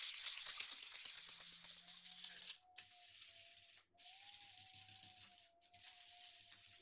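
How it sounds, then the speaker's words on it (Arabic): Fine 220-grit sandpaper rubs across a wooden surface being prepared between sealer coats, giving soft, close scratchy strokes broken by short pauses, with no voices. "هستخدم صنفرة ناعمة 220"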